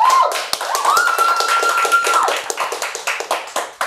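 A few people clap hands on a rap talk show set, sharp distinct claps in an uneven rhythm, close and fairly loud, with a brief whistle-like tone in the middle and claps thinning out toward the end.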